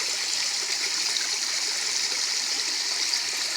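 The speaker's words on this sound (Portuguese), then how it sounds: "Olha, a água vem descendo por essas" Water runs down over rocks at the Serrinha waterfall in Carmo do Cajuru, a steady, bright rushing hiss that stays even throughout, close by with no voices.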